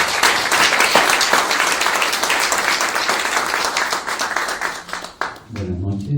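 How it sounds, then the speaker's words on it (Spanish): Loud, dense audience applause for a speaker at an academic tribute event, sustained for several seconds and fading out near the end as a voice begins talking. "Por favor, un muy fuerte aplauso a"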